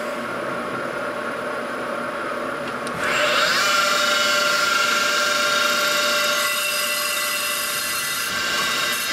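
A drill bores cooling holes into a VW Wide 5 brake rotor, a steady motor whine that jumps louder and harsher partway through as the bit bites into the metal, continuing as a sustained grinding tone with no talk.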